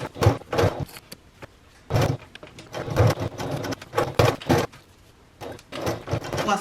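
A home sewing machine basting a mesh pocket onto a fabric panel for a travel bag, running in short, steady bursts separated by brief pauses.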